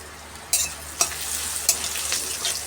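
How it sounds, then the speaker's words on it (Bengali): Bay leaf, cumin and green and dried chilies tempering in hot oil in a kadai: a close, sizzling crackle broken by several sharp spitting bursts as spices hit the oil, with no talk. "এবার কড়াইতে তেল গরম করে কাঁচা লঙ্কা শুকনো লঙ্কা জিরে ফোড়ন দেবো।"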